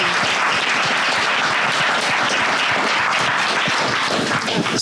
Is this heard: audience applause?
yes